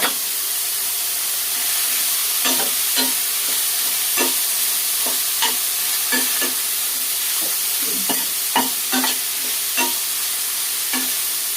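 Ground meat sizzles steadily in a hot pot under a constant frying hiss, with a spoon scraping and stirring in repeated knocks and scrapes.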